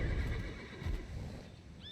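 Horses in the video game Black Desert neigh and whinny over a low rumbling game ambience, with a faint clip-clop of hooves and a higher squeal near the end, close and fairly loud.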